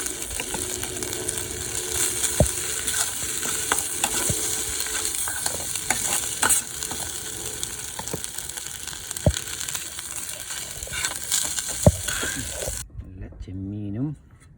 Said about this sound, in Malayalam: ഇത്തിരി ചോറ് ബട്ടറിൻ്റെ കൂടെ മിക്സ് ചെയ്യാം